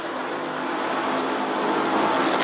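A drag racing car accelerating hard down a quarter-mile strip at an NMRA event in Bradenton, a loud sustained engine roar that keeps building over the full stretch.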